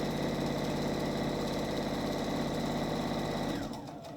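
A sewing machine stitches steadily around the edge of a chenille bowl caddy square with a continuous, even mechanical whir and rapid needle rhythm, close and alone, then slows and stops near the end.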